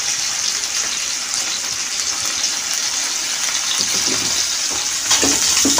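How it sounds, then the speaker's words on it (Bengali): Large fish pieces frying in hot oil in a pan, a dense steady sizzle close by, with a few soft clinks and bubbling near the end and no talk. "মাছটা ভাজা হোক।"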